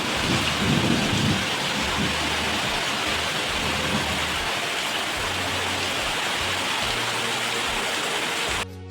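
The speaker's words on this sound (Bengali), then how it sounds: "এখন দেখো দুপুরবেলা আবার মুসুলধারে বৃষ্টি এসেছে" Dense, loud downpour roaring steadily throughout, with low rumbling underneath, then cutting off abruptly at the end.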